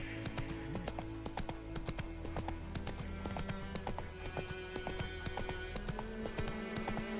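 Roach, Geralt's horse in The Witcher 3 on PS5, trots along with a steady, even clip-clop of hooves, close and clear over quiet in-game music.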